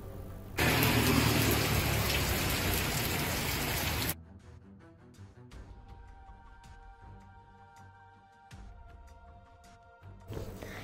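Heavy, continuous rain pours down on a street in Ripponpete town, a loud, dense hiss for several seconds before fading to a quieter patter, with a faint vehicle engine in the background.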